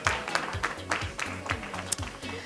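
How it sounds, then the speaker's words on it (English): Audience clapping at a masquerade party, a regular rhythmic beat of hand claps about three per second over a low pulsing music bass, moderately quiet, with no speech. "And clap your hands."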